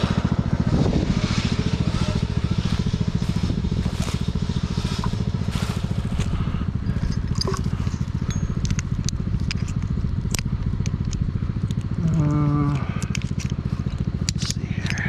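A custom Husqvarna lawnmower engine idles low and steady throughout, close and loud, with faint scraping and a brief whining tone near the end.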